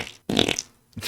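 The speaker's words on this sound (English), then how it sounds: "Creating 100 new fart sound effects." One short, sputtering fart sound effect, loud and close, with a brief wet rasp and a second quick burst at the end.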